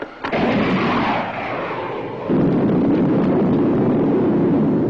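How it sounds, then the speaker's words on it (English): A missile is launched as a sound effect in a 1954 space-ranger film serial. A sharp onset leads into a loud, roaring whoosh that dips and then surges again into a sustained, heavy rumble. "Try to fire 2 missiles on a 5-count, Biff."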